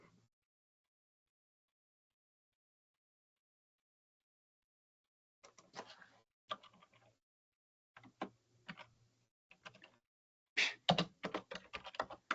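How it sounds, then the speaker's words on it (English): Silence, then bursts of clicking keystrokes on an unfamiliar computer keyboard, quick irregular taps coming in clusters, growing denser toward the end. "Strange keyboard."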